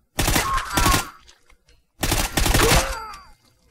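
Two loud bursts of rapid gunfire from a modded gun in Fallout 4, each a dense volley of about a second with a short tail, separated by a brief pause.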